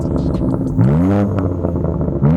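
BMW exhaust fitted with a dÄHL flap controller holding the valves fully open, giving loud, deep engine revs that rise and fall in two quick blips close by.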